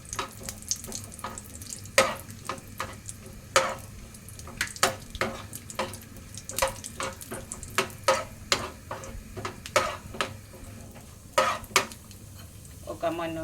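Cashews and almonds frying in a pan for sabudana kheer, with steady sizzle and repeated sharp clicks of a spoon stirring against the pan, no talk.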